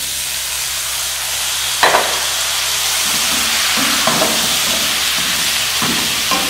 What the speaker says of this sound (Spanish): La tapamos y ahí dejamos que se fría todo muy muy bien.